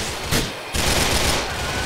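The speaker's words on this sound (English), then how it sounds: "Keep shooting, Tony!" Rapid automatic gunfire from GTA IV: The Ballad of Gay Tony rattles loudly and densely with almost no gaps, and brief bursts stand out above a continuous barrage.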